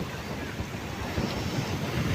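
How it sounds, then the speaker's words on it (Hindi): Steady wind at Gadani Beach by the sea near Karachi, a constant low rushing roar buffeting the microphone with no voices, likely blended with distant surf. "हवा भी चल रहा है अल्हम्दुलिल्लाह।"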